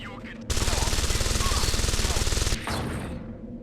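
A submachine gun in Deus Ex: Invisible War on Xbox fires one loud, unbroken rapid stream for about two seconds, each shot pounding in quick even rhythm. The fire then cuts off into a lingering echo.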